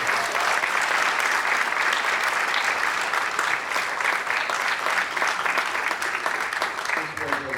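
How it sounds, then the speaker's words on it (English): An audience after a presentation breaks into a big, sustained round of applause, loud and dense for over seven seconds, with faint voices mixed in. "let's give them all a real big round of applause"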